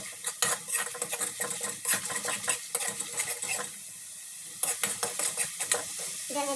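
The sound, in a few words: spices (masala) being fried and stirred in a pan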